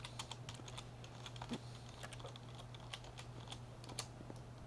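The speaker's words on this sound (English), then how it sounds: "Here, I'm gonna see if typing sign helps." Quiet, rapid keyboard typing in The Stanley Parable video game, a steady run of soft key clicks with no talking.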